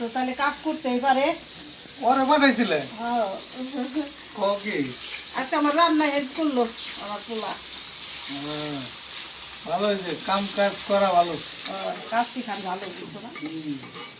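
Tilapia and hilsa fish fry in hot oil for bharta, giving a steady, close crackling sizzle that runs continuously beneath someone talking at length.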